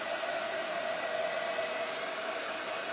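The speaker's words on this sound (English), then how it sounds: "And I'm also trying not to keep my dryer in one place for too long." Hair dryer blowing steadily and close on freshly painted crackle paint finish, a continuous airy roar with a faint motor whine, no voices.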